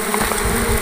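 Salt bees, also called golden fish bees, swarm around their nest in a loud, close, steady buzz, a dense hum of many wings that holds without a break.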